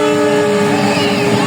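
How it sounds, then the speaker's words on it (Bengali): A train passes beside a field in the countryside, loud and close, with a continuous rumbling roar and sustained horn tones that run through the whole stretch, with no talk. "আমাদের মাঠের পাশ দিয়ে ট্রেন যাচ্ছে, ট্রেনটাও আমি দেখিয়ে দিচ্ছি আপনাদেরকে"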